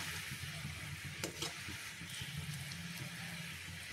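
Sugar syrup of one cup water, one cup sugar and crushed small cardamom boils in a pan on a gas stove, giving a steady close bubbling hiss that runs without a break and with no talking.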